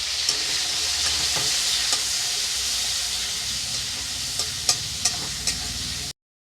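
Chopped tomatoes and green chilies sauté in hot oil for a boal fish curry, giving a steady, close hissing sizzle with occasional utensil scrapes and taps near the end before it cuts off.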